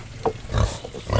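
A piglet grunts several times in quick, low bursts, close up, over faint background noise.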